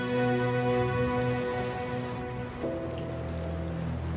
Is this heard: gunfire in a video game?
no